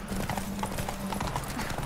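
Horse hooves clip-clop in a steady, fast galloping rhythm during a horse race in The Witcher 3, close and continuous over a dense background of game ambience.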